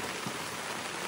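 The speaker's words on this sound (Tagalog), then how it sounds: "Ayan, umuulan pa rin hanggang ngayon." Rain falling at a campsite in Canada, a dense, steady hiss of drops pattering on surfaces, close and continuous with no voices.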